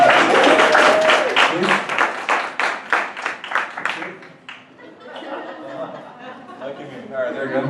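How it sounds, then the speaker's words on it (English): An audience claps for a few seconds, the applause fading into scattered chatter and murmuring from the crowd in a meeting room. "Stacy Collie, let's give her a little applause."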